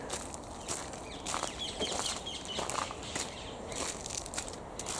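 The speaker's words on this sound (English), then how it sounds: "hear the tweeting birds for a bit." Faint chirps and tweets from birds scattered over steady outdoor rustle, with soft footsteps crunching underneath.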